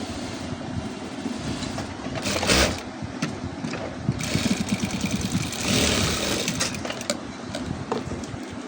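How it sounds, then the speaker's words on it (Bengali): A sewing machine runs steadily while stitching the cuff onto a jubba sleeve, its close mechanical whir continuous with a few brief louder bursts and no talk. "এভাবে সেলাই দিয়ে নেওয়ার পরে সুতোটা কেটে নিলাম"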